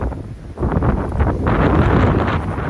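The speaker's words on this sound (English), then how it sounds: "And it's windy here again." Strong wind buffets the microphone outdoors on the Pacific Crest Trail in January, a steady roaring rumble that swells after a brief lull and stays loud throughout.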